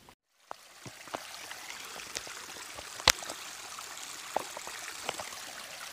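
Rainwater runs steadily down a rocky hiking trail in wet weather, a continuous soft trickling rush with scattered drips and a few sharper splashes or taps.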